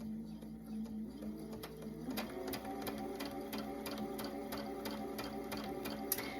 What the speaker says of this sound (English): I've got my 1/4 inch foot on, and I'm just gonna go ahead and sew my seam